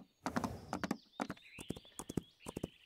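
Hooves of a wild horse in the Wild Horse Islands video game clop in quick, uneven bursts of near, crisp hoofbeats, with faint tonal game sounds drifting in the background.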